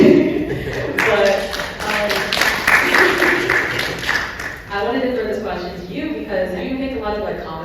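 Applause from a crowd at a VidCon Baltimore 2023 convention panel, a dense patter of clapping that swells and then fades under a voice talking in the room.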